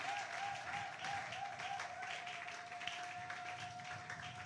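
A church congregation applauds Jesus during a service, with steady, dense clapping from many people at moderate distance and a faint sustained tone running underneath.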